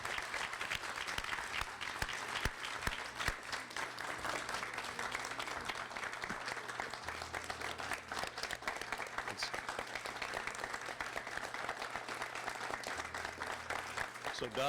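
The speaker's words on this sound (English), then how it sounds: "Let's give her a big round of applause." Sustained audience applause fills a naming ceremony honoring Dr. Dorothy P. McIntyre, a steady, fairly soft wash of many hands clapping throughout, with faint voices mixed in.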